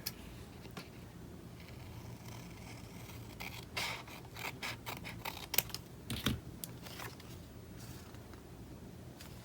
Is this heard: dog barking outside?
no